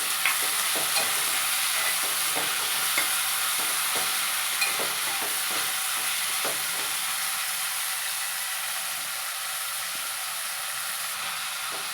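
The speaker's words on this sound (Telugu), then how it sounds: "ఇవి కొంచెం ఉడికాక ఇందులో టమాటా ముక్కలు వేసుకొని బాగా కలుపుకోవాలి" Tomato pieces stirred into a simmering omelette curry in a pan, a steady loud hissing sizzle with soft repeated scrapes of stirring early on, no talk.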